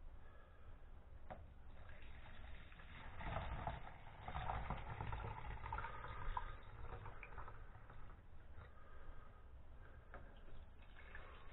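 Liquid pouring into kitchen jugs, a steady, soft gurgling fill with a faint running-water texture, quiet and continuous.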